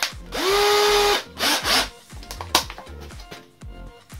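An electric drill driver bores a hole, starting with a 5 mm bit, as a lathe is built for turning pens. A loud steady whine runs for about a second, then comes shorter motor bursts and clattering knocks close by, with no talk.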